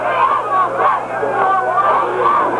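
A large crowd at a 1995 varsity high school football game on a rain-soaked field keeps up a continuous, fairly loud murmur of mixed voices and chatter throughout.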